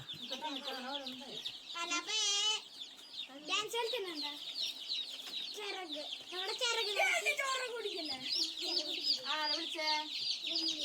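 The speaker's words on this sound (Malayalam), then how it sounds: "അത്യാവശ്യം കോഴീനെ നമ്മൾ ഇറക്കിയിട്ടുണ്ട്" Day-old Gramasree chicks at a government hatchery chirp and peep continuously at close range, a dense chorus of high calls with people talking faintly underneath.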